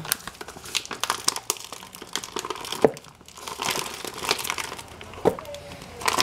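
An opened plastic package of meat, about a pound and a half, is handled and crinkled close by in irregular rustling bursts with a few sharper crackles, fairly quiet, with no talk.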